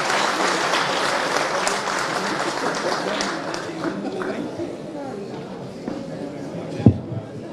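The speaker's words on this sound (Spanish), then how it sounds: "Recibámoslo con un aplauso," Applause from a conference audience greeting a speaker at a Latin American political talk, loud and dense at first, then thinning and fading with a few scattered claps and a sharp knock near the end.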